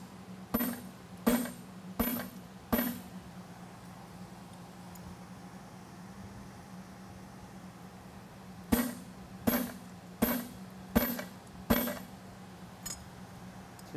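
Sharp hammer blows punch an eye hole in hot fitting tongs at a blacksmithing competition: four evenly spaced strikes, then a pause over steady background hum, then another run of about five ringing hits, loud and close.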